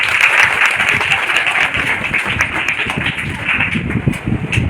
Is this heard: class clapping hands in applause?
yes